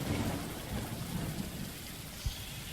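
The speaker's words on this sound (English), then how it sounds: "can you hear the rain in the background?" Steady rain falls in the background, a continuous hiss with a low rumble underneath and one brief thump partway through.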